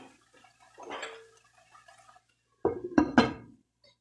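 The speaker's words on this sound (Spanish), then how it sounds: "Y en este momento yo voy a tapar la cacerola." A lid is set onto a saucepan of simmering tomato, purslane, potatoes and chorizo. A few close metallic clanks and rattles arrive in a quick cluster after softer background kitchen noise, with no talking.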